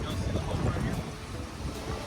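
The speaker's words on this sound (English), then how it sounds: "It's very windy." Strong wind blows at a beach near Surfside, Texas, buffeting the microphone with a steady low rumble, with possible surf beneath it.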